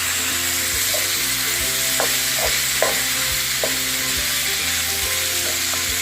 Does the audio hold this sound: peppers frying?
yes